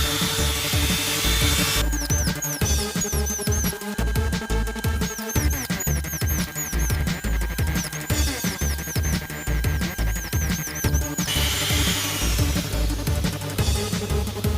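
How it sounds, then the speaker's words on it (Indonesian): A power drill bores through an aquarium undergravel filter plate in repeated loud, close bursts of high-pitched whining and grinding, broken by short pauses, with a motor tone that rises and falls as each hole is cut. "begini hasilnya setelah kita bor, ya."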